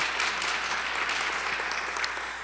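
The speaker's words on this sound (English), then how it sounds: "please give him a round of applause in his absence" An audience at a library engraving project event claps steadily for about two and a half seconds, a dense, even patter of many hands that tapers slightly at the end.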